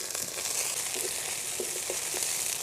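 Chopped onion, chili and garlic sizzle in hot oil in a pan, a continuous frying hiss dotted with small crackling pops, close up and without speech.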